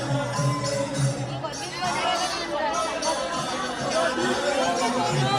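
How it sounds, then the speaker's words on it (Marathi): A busy Sunday crowd fills the grounds of a large ISKCON temple, with a steady murmur of many overlapping voices and a general babble from nearby and farther off. "गर्दी खूप आहे गाईज कारण संडे आहे ना"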